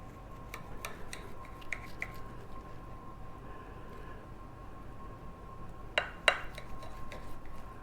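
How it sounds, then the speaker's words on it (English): Knife slicing into a rested steak grilled on a Big Green Egg, with faint scraping clicks against a plate and a couple of sharper clinks near the end, over quiet room noise. "let's cut into it and see how she looks"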